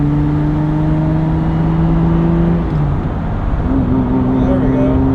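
A Ferrari Testarossa engine while driving, loud and close with steady tonal drone from inside the car, pitch dropping slightly near the middle as a gear changes, then holding again.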